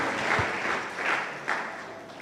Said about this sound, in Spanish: ¿Usted cree que Dios merece un aplauso, hermanos?